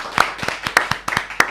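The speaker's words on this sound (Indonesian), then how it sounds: "Tepuk tangan buat Ernest Prakasa." An audience claps for Ernest Prakasa at the close of a live talk-show event, a short burst of sharp, scattered hand claps in quick uneven rhythm, close and moderately loud with no voices over it.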